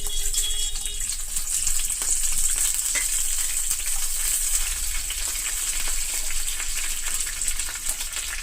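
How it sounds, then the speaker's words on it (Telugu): Crushed garlic and tempering spices frying in hot oil, a loud, dense, steady sizzle with fine crackling throughout and no voices. "ఇప్పుడు ఫస్ట్ ఫ్రెష్ చేసిన ఒక ఫుల్ వెల్లుల్లిపాయ మొత్తం వేస్తున్నాను తర్వాత ఈ పోపులు కూడా వేసేస్తాను"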